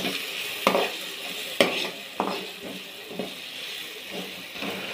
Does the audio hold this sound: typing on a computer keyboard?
no